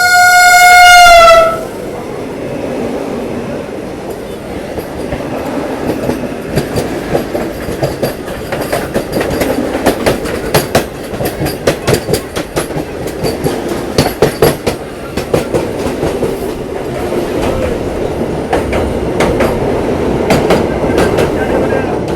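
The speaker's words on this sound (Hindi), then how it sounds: "अब वंदे भारत सामने से निकलेगी।" Vande Bharat train crossing a railway bridge over the Yamuna, opening with a loud horn blast and then a long, steady rumble with rapid clattering wheels as it passes close by.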